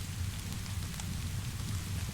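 Gentle rain patters softly and steadily on a rain-washed skylight in a quiet workshop in the evening, a faint even hiss with no voices.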